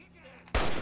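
A single loud gunshot bursts out suddenly in the Fallout 3 video game, breaking abruptly from a quiet background with no speech.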